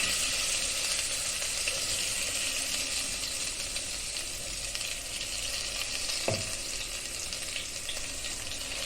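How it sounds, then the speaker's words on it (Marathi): Barnyard millet rice roasts in a pan with a loud, steady sizzle that stays even throughout, and a single soft knock of the stirring spoon stands out briefly near the end. "आता ह्याच्यामध्येच आपण हा वरीचा तांदूळ भाजून घेऊया"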